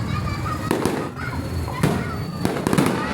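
Fireworks bursting at the SM San Fernando La Union mall opening, several sharp cracks and booms over a steady crowd din, with children and adults chattering throughout.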